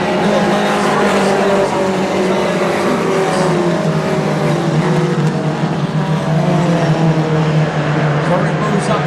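Race cars scream around an oval track in a loud, continuous engine drone with layered, shifting pitches, while a commentator talks over the noise.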